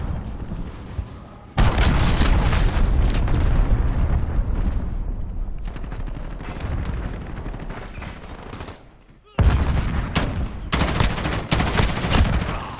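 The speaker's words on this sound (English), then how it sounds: "Enemy cruise missile, take cover." Cruise missile strikes in the Modern Warfare beta shooter: two sudden heavy blasts of roaring explosion and rumbling gunfire, each sustained for several seconds, with a quieter lull between them.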